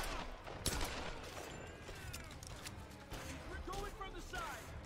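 Pistol gunshots in Tomb Raider (2013), set in the Shanty Town area: scattered sharp shots and metallic clicks within busy game sounds and light action, recorded quite faintly.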